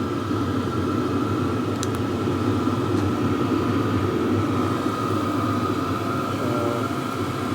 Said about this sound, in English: when you hear the jet motor going back on, you know it's coming on for real